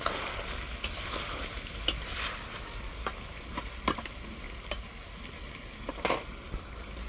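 Fried pumpkin pieces are stirred into chicken masala in a pan, giving a soft continuous sizzle with scattered spatula scrapes and taps, close and fairly quiet.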